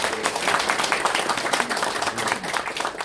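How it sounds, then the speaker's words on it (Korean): Audience at a Seoul policy seminar on national pension and institutional investors applauds steadily, a dense continuous clapping that holds for about three seconds in a hall. "여러분 정말 감사의 큰 박수를 한번 보내주시면 고맙습니다"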